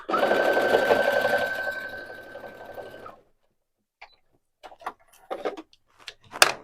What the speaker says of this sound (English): I'll put one on my first side, and I'm just going to sew that down.